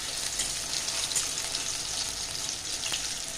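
Soya donuts fry lightly in hot oil in a pan, a steady close crackling sizzle with fine popping bubbles that continues evenly throughout.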